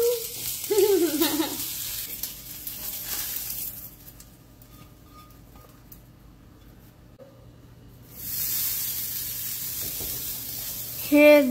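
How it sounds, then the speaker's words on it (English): Onions frying in a pan, with a hissing sizzle that fades and quiets in the middle, then returns loudly. Brief higher tones sound at the start and end. "Ooh, you hear that sizzle?"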